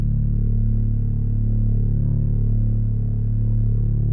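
Distorted synth bass from a Logic Pro X arrangement, a heavier second bass layer with added grit, holding a dense, steady low-end drone with slow pulsing movement throughout, loud and alone with no talking.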